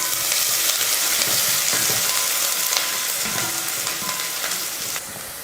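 Chopped large onion sizzling in hot oil in a pan with cinnamon, cloves and a bay leaf, a steady, loud, bright hiss that runs throughout and eases slightly near the end.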